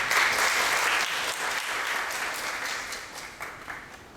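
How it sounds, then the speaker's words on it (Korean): A forum audience gives a round of steady, dense applause, loudest at the start and tapering gradually over a few seconds. "큰 박수 부탁드립니다"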